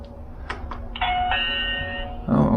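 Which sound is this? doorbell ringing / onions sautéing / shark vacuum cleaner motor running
doorbell ringing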